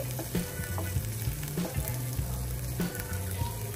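Prawns sizzle steadily in a pan while being lightly roasted, with a continuous frying crackle and occasional stirring scrapes close up.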